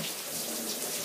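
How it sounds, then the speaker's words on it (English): Water runs steadily from a kitchen tap as potatoes are rinsed, a continuous close splashing hiss with no voices. "Rinse my potatoes off."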